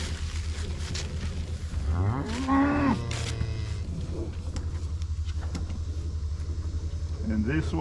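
A cow on a farm with a black Angus bull nearby gives a single drawn-out moo, rising then falling, clearly heard over a steady low engine rumble, with brief faint sounds afterward.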